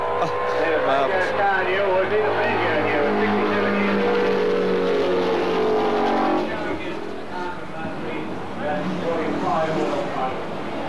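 Vintage racing cars roar past a grandstand at a 1978 race, engines loud and rasping as they sweep by and fade, with a commentator talking over the passing noise throughout.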